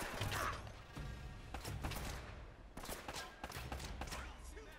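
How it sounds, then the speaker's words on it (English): Enemy gunfire crackles in Uncharted: Drake's Fortune, a fairly faint, rapid series of sharp shots and mechanical clatter from somewhere above, running throughout. "It looks like they're shooting from up high."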